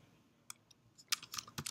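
Keys clacking on a computer keyboard in a short burst of typing, a few isolated taps at first and then a quicker cluster of close, crisp clicks, with no talking.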